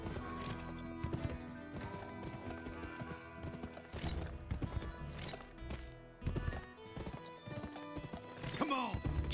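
Horse hooves clip-clop in a rhythmic gait in the video game GUN, close and clear over game music and sound effects, with a horse's whinny near the end and voices speaking.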